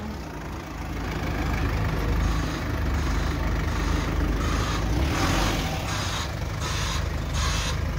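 Heavy road traffic held up behind a parked vehicle, a steady rumble of idling trucks and cars close by, with brief hissing bursts later on and no talking.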